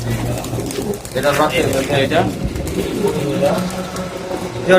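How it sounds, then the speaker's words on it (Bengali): Giribaz pigeons coo softly in low, rolling bursts in a pigeon loft while people talk nearby. "গিরিবাস কবুতরগুলা সুন্দর সুন্দর কবুতর"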